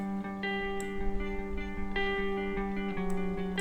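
Dry electric guitar from a band's song stem, panned left with no EQ or reverb, sustained chords restruck about every second and a half, clear and alone.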